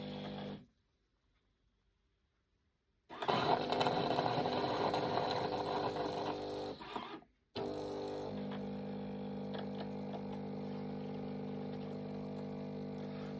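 A one-touch coffee machine drawing milk hums and whirs steadily up close, starting after a short silence and pausing briefly before running on at an even level.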